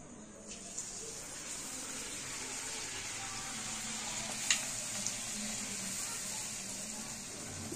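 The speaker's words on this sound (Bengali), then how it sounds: "লুচি ভাজাটা এখনও বাকি রয়ে গেছে, তো সেই জন্য ভেজে নিচ্ছি" Luchi, a puffed wheat flatbread, fries in hot oil in a home kitchen, giving a soft, steady hiss throughout with a couple of faint sharp pops.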